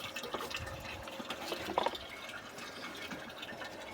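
Water pumped by a 1/2 HP electric motor fills a tank on a natural-farming jeevamrut setup: a steady, moderately close rush and splash of flowing water with a brief louder gurgle partway through.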